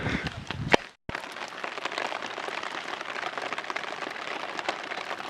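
Rain falls in steady heavy wash on a blue tarp shelter during a wet, partly snowy Kodiak hunting trip, broken once by a brief gap near the start.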